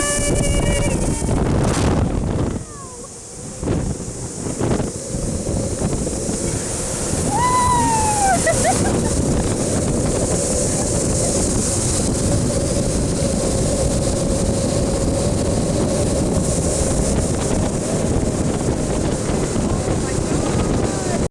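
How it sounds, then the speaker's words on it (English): Strong wind roars and buffets the microphone during a Skywire ride in New Zealand, a steady loud rumble lasting throughout, with a brief dip early on and a short whistle-like squeal partway through. "Very windy, but I think it's just more funny that you can hear me, mum and Brittany and myself"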